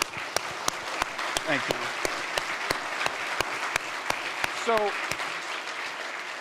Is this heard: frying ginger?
no